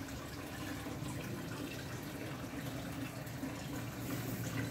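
Water is poured onto a potted avocado plant, a faint, steady trickle and splash soaking into the soil with no talk.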